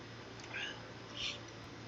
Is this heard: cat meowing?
yes